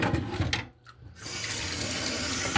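Tap water runs into a kitchen sink while an item is rinsed, a steady close splashing that briefly drops away before flowing again.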